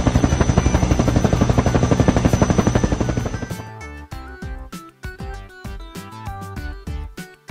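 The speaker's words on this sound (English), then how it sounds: "Helicopter." A helicopter's rotor thumps in a fast, steady pulse for several seconds, loud and near, before cutting to bouncy music.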